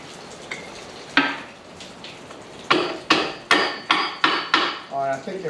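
Sharp metallic hammer strikes ring out as shims are driven into a John Deere skid steer quick attach: a couple of scattered blows, then a steady run of about six evenly spaced hits, fairly close.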